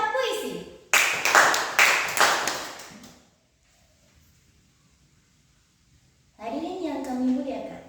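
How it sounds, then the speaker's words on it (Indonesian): Applause from an audience at a school poetry reading contest, honoring the third-place winner: a loud burst of clapping for about two seconds that fades out, then quiet, and a voice starts speaking near the end. "Beri tepuk tangan yang meriah untuk penampilan juara ketiga lomba baca puisi."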